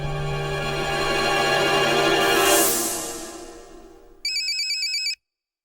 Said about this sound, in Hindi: अरे मुख्यमंत्री जी का फोन।